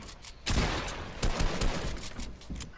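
Rapid bursts of assault rifle fire in a Fortnite 1v1 tournament match, loud close shots in quick clusters, one stretch after another with brief gaps.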